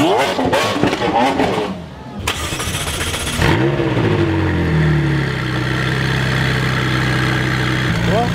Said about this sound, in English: Well, this McLaren's leaving